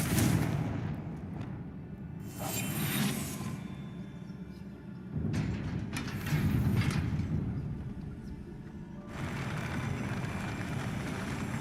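Blasting-spell explosions in Hogwarts Legacy gameplay, several loud booming bursts with crackling debris tails, separated by brief lulls, under a rumbling game soundtrack.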